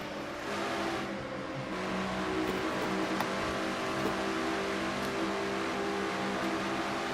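A Ford race car engine roars in a racing game, heard from the in-car camera: a loud, sustained drone at high revs that keeps climbing and shifting pitch throughout.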